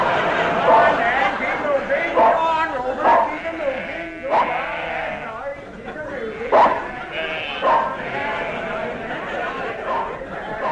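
Sheep bleat in a radio comedy, Hancock's Half Hour, as a stacked sound effect of wavering, overlapping cries. They run continuously and fairly loud for about ten seconds, with a slight chattering quality throughout.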